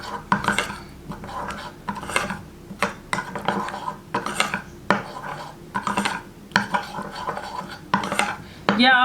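A spoon stirs lemon into a homemade facial mixture in a bowl, making rhythmic scraping and clinking strokes against the bowl, repeated steadily and close by.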